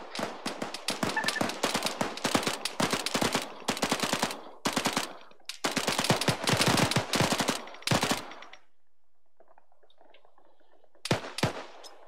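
Rapid bursts of automatic gunfire from the video game Arma 3 crackle in loud, dense volleys separated by brief pauses, then a quieter stretch before a final burst.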